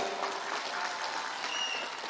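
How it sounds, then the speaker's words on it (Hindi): Applause from a crowd at an outdoor public meeting on Gorkha Pathshala Field in Shillong, a steady wash of distant clapping lasting a couple of seconds. "हेक साहब के लिए एक बार जोरदार ताली हो जाए"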